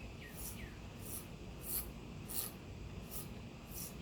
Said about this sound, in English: I find I have a lot of control with a file and a razor blade